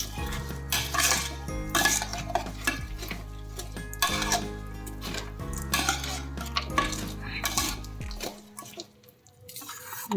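A spoon stirs sautéed dry fruits and edible gum in a pan over low heat, giving repeated scraping and clinking strokes along with soft sizzling. Music with a steady beat plays underneath and cuts out near the end.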